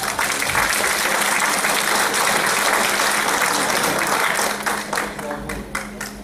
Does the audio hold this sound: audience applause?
yes